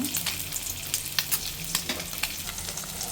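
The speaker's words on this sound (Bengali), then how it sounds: "ডিমগুলো পিস পিস করে কাটার পরে আবার এখানে তেলের দিয়ে ভাজতাছি সাথে হলুদ মরিচ আছে" Pieces of boiled egg fry in oil with turmeric and chili, a continuous crackling sizzle punctuated by soft scrapes of stirring, close and steady with no voices.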